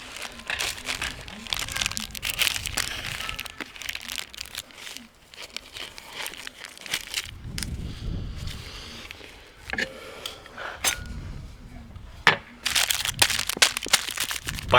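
Plastic crinkles and rustles in bursts close up, with quiet handling noises between the crackly patches.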